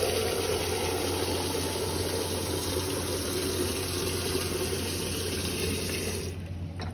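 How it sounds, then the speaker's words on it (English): Water poured from a cup over the hands for ritual hand washing at a Seder: a continuous close splashing stream that runs steadily, then tapers off at the very end. "Here we go, washing our hands again. Take the cup, fill it up."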